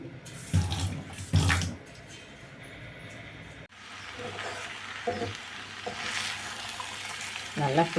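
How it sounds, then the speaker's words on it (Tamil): Carrots and beans go into hot oil in a pan and are stirred while cooking for a vegetable kurma: a steady close sizzle with clattering scrapes and stirring knocks that rise and fall throughout. "இப்போ கேரட்டு பீன்ஸ் எல்லாம் அப்படியே போட்டுடலாம்"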